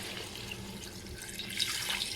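Water being poured into a pot of mutton for kabsa pulao, heard as a soft, continuous splashing trickle with brighter spatters near the end.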